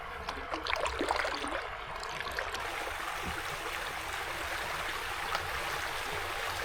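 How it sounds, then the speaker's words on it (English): A small waterfall on the Suwannee River rushes in a steady, close, full-bodied wash of flowing water, with a few faint knocks from a paddling boat early on and no talking. "Another tiny little waterfall."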